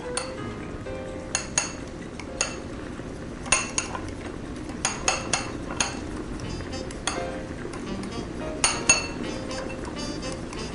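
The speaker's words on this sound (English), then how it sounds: "Stir that up." A utensil stirs whipping cream into peas and carrots in a pot, producing light clinks and taps against the metal at an irregular pace over a steady low background hum.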